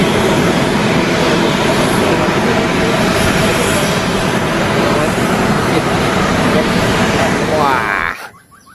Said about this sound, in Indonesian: Wow, ada pesawat terbang.